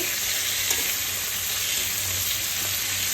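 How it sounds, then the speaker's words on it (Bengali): Prawns frying lightly in a pan give a steady, even sizzle close by, with faint stirring underneath and no talking. "হালকা করে ভেজে নিচ্ছি একটু লাল লাল করে ভেজে নেব"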